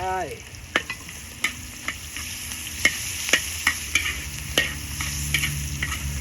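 Khao soi noodles stir-fried with long beans in a large pan over a big outdoor stove in a Shan-style kitchen, with a steady sizzle under repeated sharp scrapes and clacks of the utensil against the pan, close and continuous.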